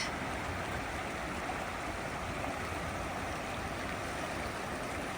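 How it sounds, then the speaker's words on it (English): A high, fast-flowing, milky glacial river near Valdez, Alaska, swollen after rain: a constant, dense roaring rush of water, heard alone without a break. "really high water now. That'll carry you off for sure."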